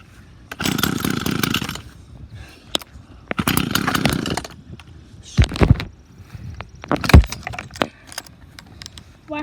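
A gas-powered weed wacker that has never had a carburetor rebuild, with the choke on, is pull-started and gives two rough, buzzing bursts of engine running, then sharp sputtering pops as it struggles to catch.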